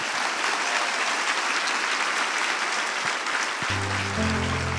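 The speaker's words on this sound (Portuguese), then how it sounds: "pode aplaudir" Church congregation applauding during a sermon, a dense, steady roar of many hands clapping at even loudness, with a sustained organ or keyboard chord entering near the end.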